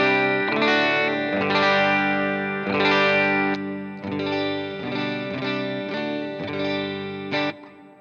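An electric guitar runs through a Line 6 Helix with a tempo-synced delay, sounding loud and close with chorus and distortion. Chords and notes repeat in rhythmic echoes that trail off between phrases.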